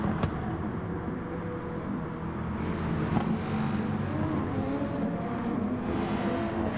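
Race cars, including a Corvette, run the Dragon Trail circuit in a Gran Turismo GT Cup race, engines droning steadily at moderate distance with a few sharper passes and no talk over them.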